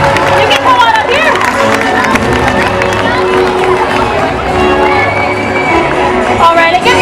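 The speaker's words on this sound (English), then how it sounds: "Let's give a big round of applause for Layla, everybody!" At a SeaWorld San Diego orca show, a large crowd cheers and whoops loudly with some clapping, holding steady throughout under a presenter's amplified voice.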